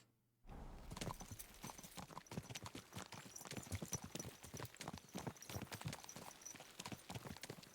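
Horse hooves clip-clop at a steady, rhythmic trot in the video game Kingdom Come Deliverance 2, close and continuous for the whole stretch with no talking.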